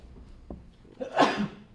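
A single sneeze in a quiet meeting room during a board of selectmen session, a short soft onset followed by a sharp breathy burst, moderately close.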